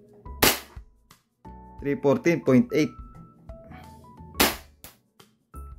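Two sharp, loud pops from an E&C Glock 34 Taran Tactical airsoft pistol fired through a chronograph, one near the start and one later. Between them someone talks and chronograph beeps are heard.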